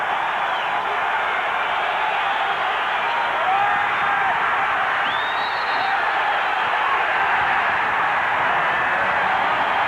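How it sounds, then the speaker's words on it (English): A large basketball arena crowd at a 1989 San Antonio Spurs home game against the Trail Blazers roars steadily and loudly throughout, a dense, sustained wash of cheering with no break. "You hear the crowd."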